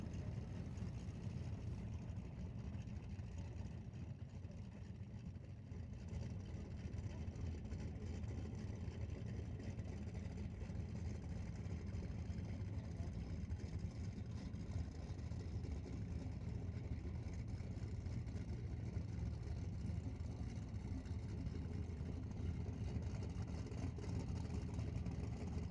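Turbocharged Mustang drag race cars with similar motors run at an outdoor drag strip during an outlaw shootout, heard as a steady, distant, low engine drone that holds evenly throughout without a clear launch.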